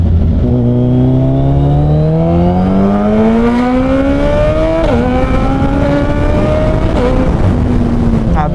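Suzuki Hayabusa motorcycles fitted with Brocks carbon exhausts ride nearby, their engines droning loud and close as the pitch climbs steadily through acceleration, with brief dips at gear changes.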